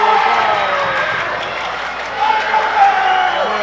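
Eagle fans at a high school boys' basketball game between Chazy and Boquet Valley roar in a sustained crowd cheer with applause after a basket, loud and continuous with a brief swell near the end.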